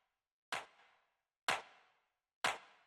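Three dry techno clap hits without saturation, evenly spaced about a second apart, each a sharp bright crack with a short decaying tail, alone and fairly quiet.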